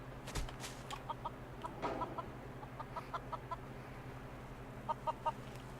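Chickens in the video game Fallout 4, a string of soft, short clucks in scattered bursts over a low steady ambient hum, fairly quiet and close, with no one speaking.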